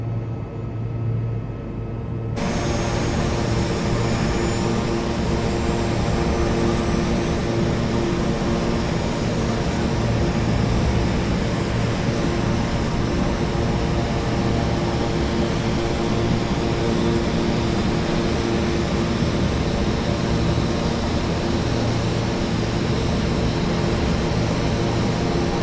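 The twin turboprop engines of a Piaggio P180 Avanti in a flight simulator game spool up into a loud, steady droning roar with a constant high whine, holding evenly for the whole stretch after a short quieter start.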